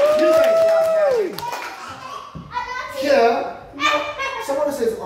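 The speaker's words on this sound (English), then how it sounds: "I think you should give yourself another big round of applause." Children clap at a birthday party during a magician's show, scattered bursts of hand claps mixed with excited kids' voices and chatter nearby.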